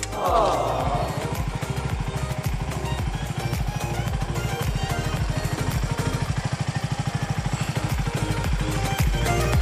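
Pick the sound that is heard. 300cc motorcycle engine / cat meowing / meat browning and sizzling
300cc motorcycle engine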